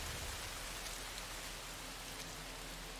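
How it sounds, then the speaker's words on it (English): Rain falls on an alien planet in the video game No Man's Sky, a soft, even, constant patter that fills the background with no talking. "It's raining too."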